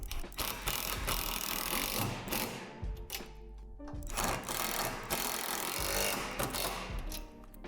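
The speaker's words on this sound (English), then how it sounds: "Now tighten this hardware, making sure to keep a wrench on the head of the bolt." A wrench ratchets and clicks while tightening bolt hardware on a Lifetime Portable Quick Adjust II basketball hoop, a dense, loud, continuous mechanical clatter that runs steadily with brief dips.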